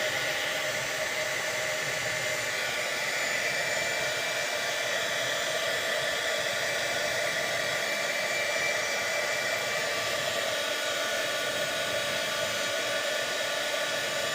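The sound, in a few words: hair dryer drying ink on mixed media art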